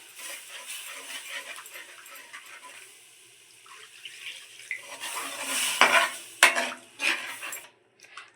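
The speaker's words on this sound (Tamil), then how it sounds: "நல்லா கட்டிகளாக இல்லாத மாதிரி நல்லா கலக்கிடலாம்" Milk is stirred into roasted maida flour for white sauce, giving soft scraping and clinking of a utensil against the pan that grows louder toward the end, with no talking.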